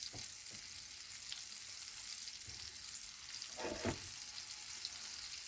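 Steak pieces browning in a frying pan, a faint steady sizzle with occasional louder crackles and spits, close and low-level.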